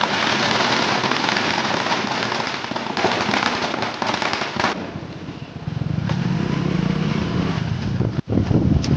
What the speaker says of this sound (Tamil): போகிற வழியிலேயே சூப்பராக ரோட் சைட்லலாம் பட்டாசு வெடிச்சிட்டு இருந்தோம்